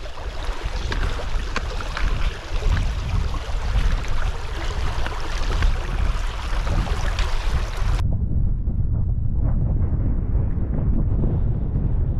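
Strong wind gusts roar across fine volcanic sand on Iceland's Laugavegur Trail, a loud continuous rumble buffeting the microphone, muffling noticeably partway through.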